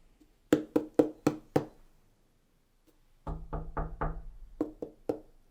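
Knuckles knock on a hard pumpkin, first five quick evenly spaced raps, then after a pause a longer run of several knocks with a few more at the end, close and crisp with no talking.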